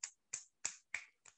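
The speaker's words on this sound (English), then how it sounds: "give me some finger snaps" An audience at Baltimore's Zero Waste Day 2021 answers with five crisp finger snaps in an even rhythm, each sharp and clean against silence, fairly soft and slightly distant.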